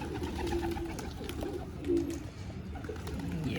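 Pigeons coo softly in a few short, low calls over a steady background rumble, fairly close but not loud, with no one talking.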